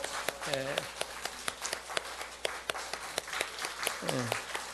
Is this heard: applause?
yes